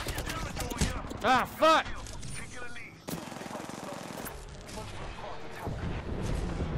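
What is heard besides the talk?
grenade explosion in a video game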